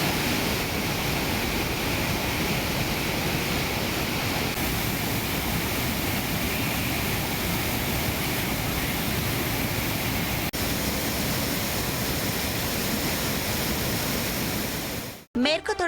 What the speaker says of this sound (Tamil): திருப்பரப்பு அருவியில் நீர்வரத்து அதிகரித்துள்ளது